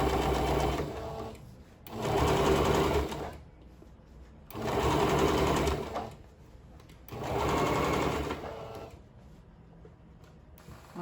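A sewing machine stitching fabric lining, running in three steady whirring bursts of a couple of seconds each with quiet pauses between, close and loud.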